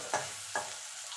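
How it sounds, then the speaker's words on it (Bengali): Sliced onion fries in a pan of hot oil with a quiet, steady sizzle, broken by two sharp scraping stirs of a spatula and a fainter third near the end. "দেখুন পেঁয়াজটা লাল লাল করে ভাজা হয়ে গেছে"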